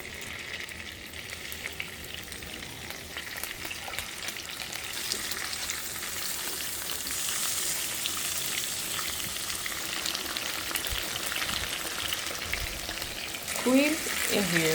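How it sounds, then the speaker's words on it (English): Seafood fries in plenty of butter with a constant, close sizzle and crackle, occasional stirring noises over it, and a brief voice near the end. "In the meantime, I'm gonna cook my seafood here. I'm going to use a lot of butter."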